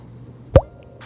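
A single short wet plop made by a person's mouth imitating a water boot, one sharp isolated pop in otherwise quiet surroundings.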